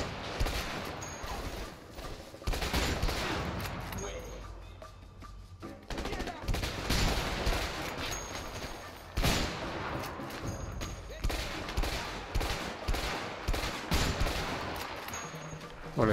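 Dense gunfire in the video game A Way Out, including sniper rifle shots, with rapid bursts and heavy booming reports layered over a continuous loud action soundtrack, sharp shots punctuating the din.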